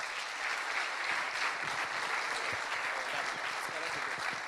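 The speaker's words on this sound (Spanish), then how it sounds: "Un aplauso, por favor." An audience at a university talk in La Plata claps steadily after a speaker is introduced, a dense, even wash of applause from a fairly large crowd throughout.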